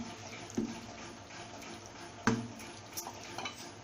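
A spoon stirs khapli wheat kheer in a pot over low heat, soft scraping and sloshing with a couple of sharper knocks against the pot, faint and close.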